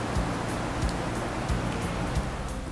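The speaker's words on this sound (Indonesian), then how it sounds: "suasana yang dipenuhi dengan bunyi ombak" Ocean waves wash steadily onto the shore at a seaside campsite, a continuous broadband roar with soft periodic swells, close and fairly loud, with no voices.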